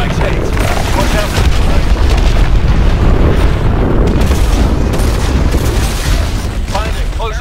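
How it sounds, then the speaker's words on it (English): Heavy rumbling booms from missiles striking hard points on a hydroelectric dam in Call of Duty: Advanced Warfare, a loud, dense roar of explosions and jet noise that never lets up, with voices half buried beneath it. "Lock onto those hard points and hit it with your missiles."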